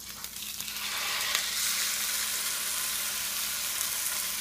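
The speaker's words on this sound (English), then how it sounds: "You can see it sizzling." Steady, bright sizzling of steak frying in a pan, a constant hiss that swells slightly and then holds.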